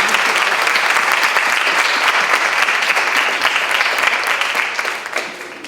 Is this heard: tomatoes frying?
no